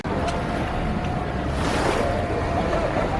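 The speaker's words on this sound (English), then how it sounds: "there's constantly boats going by" Steady rumble of boat engines and churning water fills the air off the islands of Isla Contoy and Isla Mujeres, Mexico, with wind buffeting the microphone throughout.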